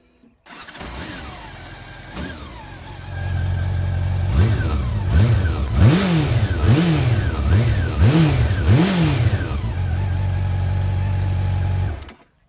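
A stock Honda CB400 motorcycle engine starts, settles into an idle, then is revved several times in quick bursts before dropping back to a steady idle and cutting off.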